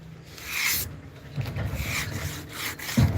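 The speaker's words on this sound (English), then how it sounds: "So you're sanding out a lot of stuff." Primed car paint is sanded by hand in repeated rubbing strokes, close and moderately loud, with an uneven back-and-forth rhythm of rasping passes.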